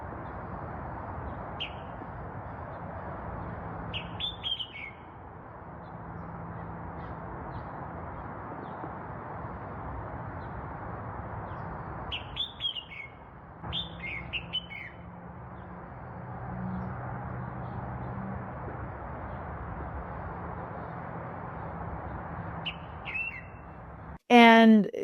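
A wild bird in Arizona calls in short, high, repeated chirping phrases at intervals over a low, constant background hum, with a sharp louder burst of notes at the very end.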